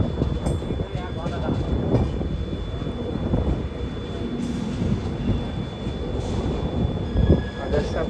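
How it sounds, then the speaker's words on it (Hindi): Howrah Pune Duronto Express running along the main line, a steady loud rumble of wheels and carriage noise with a faint high whine throughout and a brief louder swell near the end, heard from inside the train. "अब एक्सपेक्ट करता हूँ बिना किसी झमेले का हमारा ट्रेन चलेगा।"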